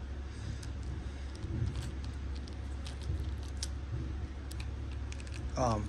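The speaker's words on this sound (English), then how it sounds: "Yeah, that's the garbage truck, in case any of you are wondering what that noise was." A garbage truck passes outside with a steady low engine rumble beneath nearby clicks and rattles of toy handling, and a short voice comes in at the end.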